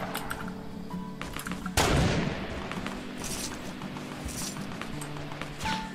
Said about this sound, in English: Keep in mind, I only have a shotgun.